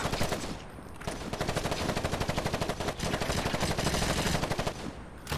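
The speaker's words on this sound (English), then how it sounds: "Tommy guns are awesome." Tommy gun firing in the Gangstar Vegas video game, rapid continuous automatic bursts, loud and close, filling the whole stretch with no talking.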